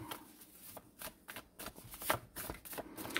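Tarot cards are shuffled during a weekly fortune reading, making quiet, uneven riffling and slapping bursts close by with no talk.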